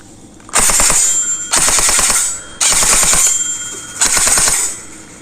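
An electric M4 CQB gel blaster rifle with metal gears fires four rapid bursts, each a fast mechanical rattle with a metallic gearbox whine, loud and close with short pauses between.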